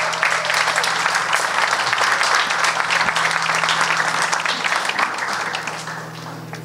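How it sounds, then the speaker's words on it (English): Sustained audience applause fills an evening event honoring the organizers, a dense, steady clatter of many hands clapping close by, holding for several seconds before easing slightly toward the end. "Let's give them a warm applause."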